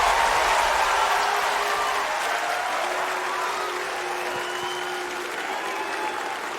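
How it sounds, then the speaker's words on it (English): Tennis crowd at the 2024 US Open third-round match between Casper Ruud and Shang Juncheng, loud and sustained throughout, with a drawn-out collective chant of Ruud's name rising over the applause-like roar and slowly easing off. "That is not the crowd booing, I don't think. That's the crowd saying Ruud."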